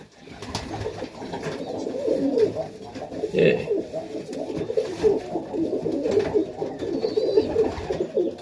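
Young Highflyer pigeons, Serbian Highflyers and Tipplers among the juniors, coo in soft repeated bursts close by. A brief word of speech comes through once.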